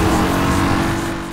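A Bugatti Veyron engine in the racing game Need for Speed: Hot Pursuit (2010) roars steadily at high revs, a loud, close, sustained drone with a dense low hum that eases slightly toward the end.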